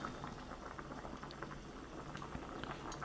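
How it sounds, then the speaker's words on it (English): Vegetable soup boiling in a pot, a soft continuous bubbling with small pops and patters, fairly faint and heard alone. "Okay, so it's coming up to a nice boil here."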